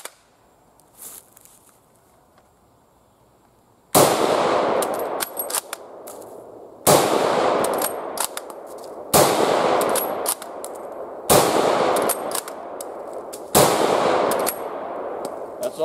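A Chilean Model 1935 Mauser rifle fired at a 100-yard range, five loud sharp shots spaced a couple of seconds apart, each with a ringing echo and a faint metallic clang, after a quiet start.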